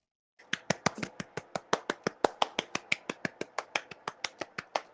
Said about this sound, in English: Big claps.